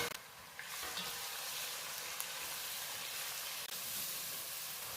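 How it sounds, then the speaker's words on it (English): Chopped onions sizzle in hot oil with cloves, cumin seeds and curry leaves, giving a steady, close frying hiss that holds throughout. The start is sharp, then the hiss goes on alone. "And then I'm going to add 2 medium onions chopped up."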